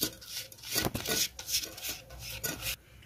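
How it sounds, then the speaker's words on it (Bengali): A brush spreads oil over a paper-lined cake bowl in a home kitchen, making quick scratchy strokes that rasp back and forth in an uneven rhythm, close and fairly quiet. "এবার আমি এতে একটু তেল ব্রাশ করে নেবো, একটু তেল দিয়ে দেবো, ব্রাশ করে এটা ভালো করে মাখিয়ে নেব।"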